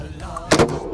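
A single sharp gunshot cracks out as a weapon fires at a target, loud and sudden against a faint background.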